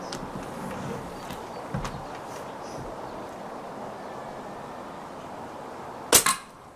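A single sharp crack from a BSA air rifle firing a .177 13 grain Pro-Hunter swaged slug, loud and close after several seconds of quiet room noise, followed by a brief echoing rattle.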